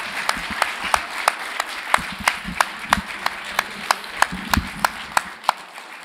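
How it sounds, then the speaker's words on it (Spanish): An audience applauds at a meeting with author Alfredo Bryce Echenique at the FILSA 2014 book fair. The crowd claps steadily in an even, rhythmic beat, fairly close and loud, with no talk. "El aplauso que le debíamos."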